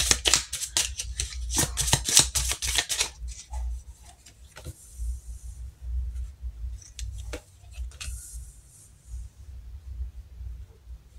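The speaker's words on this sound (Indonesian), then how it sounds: "Kita shuffle juga kartu yang lain." Tarot cards being shuffled during a reading, a burst of dense, rapid riffling clicks in the first three seconds, then scattered softer card taps and shuffles, close and fairly quiet with no voice.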